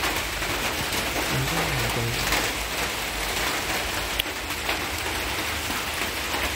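Rain falls steadily as a broad, even hiss across a village outdoors, close and continuous, with a brief sharper tap partway through.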